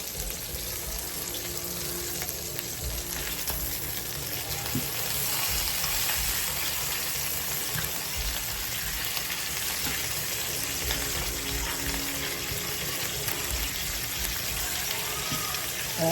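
Steady, dense sizzling of bacon-wrapped asparagus frying in a hot pan on high-medium heat, continuous and fairly loud throughout, with faint clatter now and then.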